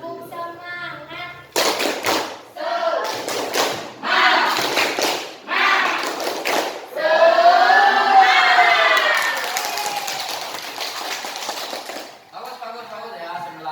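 A school class group claps a rhythmic spirited cheer pattern in loud bursts, chanting voices mixed with the clapping, then sustained crowd cheering and chatter.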